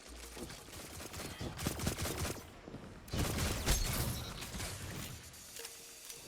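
Shotgun fire and weapon blasts in a Destiny Crucible PvP match, a cluster of sharp cracks and booms with mechanical clatter, fairly quiet overall and busiest through the middle of the stretch.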